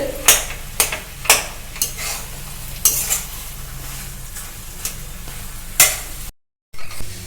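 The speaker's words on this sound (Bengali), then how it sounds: "তেলেতে আলুটা দিয়ে আমি তেলের সঙ্গে আলুটা কিন্তু কষে নিচ্ছি সুন্দর করে" Potatoes are stirred and fried in hot oil in a pan, with a continuous sizzle broken by regular scraping strokes of a spatula roughly every half second, near and fairly loud, with a brief dropout near the end.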